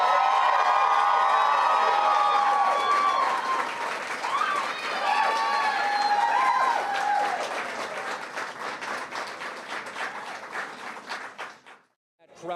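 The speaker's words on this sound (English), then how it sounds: "Crowd there, that was the biggest reaction all night, a tremendous outpouring of support for Stein there" A large crowd at a campaign speech for gubernatorial candidate Stein breaks into loud, sustained applause and cheering with whoops and shouts, gradually fading over several seconds before cutting off.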